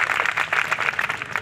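A school youth parliament event audience gives welcoming applause for the honourable Speaker, a steady patter of many hands clapping at moderate volume, continuous through the moment.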